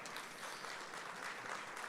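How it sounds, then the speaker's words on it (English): Banquet guests at a fire department recognition dinner clap for partner staff, a steady, diffuse patter of applause from a crowd in a large room, faint and continuous with no voices over it. "please give those folks a round of applause too"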